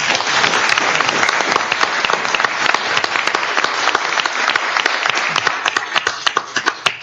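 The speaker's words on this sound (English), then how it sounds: "please give us a round of applause for both of them" Sustained applause for awardees at a city council meeting in Clayton, California, a dense wash of clapping from a seated audience that stays loud throughout, with sharper individual claps standing out toward the end.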